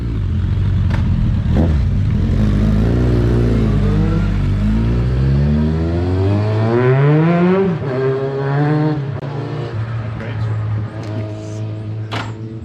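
Suzuki motorcycles with performance exhausts rev up and pull away, pitch climbing through the gears with a rising, throaty whine, loud and close.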